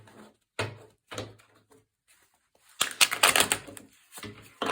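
Tarot cards being shuffled by hand, a series of short riffling and snapping bursts followed by a longer, denser flurry of card clatter, close and fairly loud with no talking.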